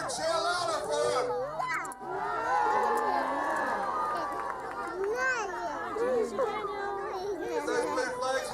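A crowd of adults and children cheers and shouts at a medieval fair joust at Pendennis Castle, loud, continuous and layered, with a brief dip before swelling again.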